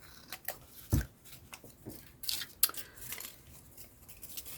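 Scissors snipping through an old Christmas card, a few separate sharp cuts spaced unevenly across a quiet room, one louder snip near the start and crisp papery clips later.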